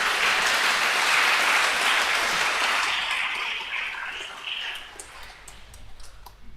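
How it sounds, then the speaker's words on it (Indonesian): An audience at a 75th anniversary Eucharist mass of a seminary in Palembang claps in a dense, bright burst of applause that gradually thins out into scattered individual claps. "boleh tepuk tangan"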